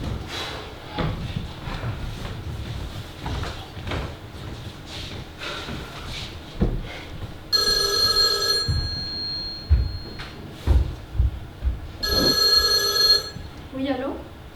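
An old-style telephone bell rings in two long bursts on a theatre stage, bright and clear above a clattering background of footsteps, handling noises and actors talking.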